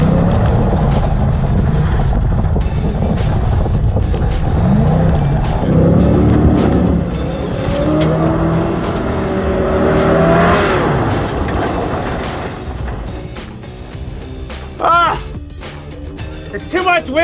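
A muscle truck driving a slalom course in a car-show competition, its engine revving and surging loudly through the turns with tyre noise, while someone talks over it and the engine note changes toward the end.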